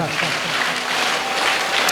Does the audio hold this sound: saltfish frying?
no